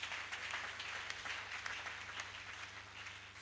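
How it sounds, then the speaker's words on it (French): A church congregation claps during a Sunday service, a steady, dense applause of many hands carrying on without a break over a low hum, with no talk over it. "Acclamons au nom de Jésus."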